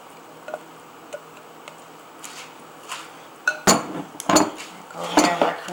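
A utensil scrapes tiramisu cream out into a bowl, with sporadic clinks and then several louder scraping and knocking strokes of metal against dishware close by.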